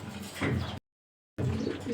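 Racing pigeons coo in low throaty rumbles close by, two bursts split by a brief gap of silence.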